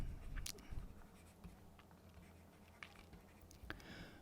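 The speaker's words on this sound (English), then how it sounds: "Let me write here" Writing during a physics lecture on forced oscillations, likely chalk or pen on a board, heard as scattered short scratchy strokes, faint and close, with no talk.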